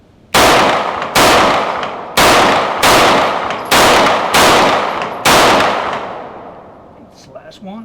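Seven loud, sharp gunshots from a Boberg XR9S 9mm bullpup pistol loaded with 115 grain Winchester white box ammunition, fired at a steady pace, each report followed by a brief ringing decay, then quiet with faint noise at the end.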